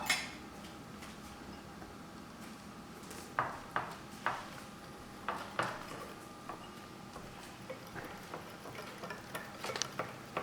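Chocolate mug cake batter being stirred in a mug, light scattered clinks and taps of a spoon against the sides over a quiet background, irregular and fairly faint, close by.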